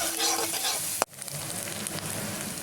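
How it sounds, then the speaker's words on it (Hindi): Onions frying in oil in a pan until light brown, giving a steady close sizzle and crackle throughout, with a brief sharp clatter near the middle. "मैं प्याज भूनती हूँ जब तक प्याज लाल नहीं हो जाती"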